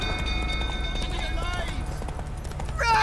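A horse gallops in The Witcher 3: Wild Hunt Enhanced Edition, its rhythmic hoofbeats running steadily through the clip beneath game voices and a tonal musical score.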